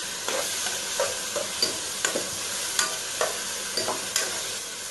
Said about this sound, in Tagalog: Gisa lang ng gisa.